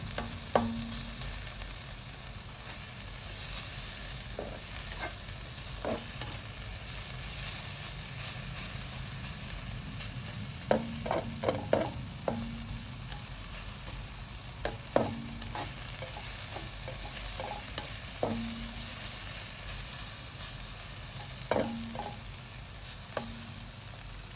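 Curry paste stir-fries in a hot wok, a steady low sizzle punctuated by scattered scraping and tapping strokes of the spatula, close and moderately quiet, with no speech.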